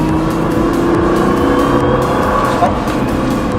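A race car accelerating hard on a circuit, its engine a loud, steady roar close by that holds throughout with slight shifts in pitch.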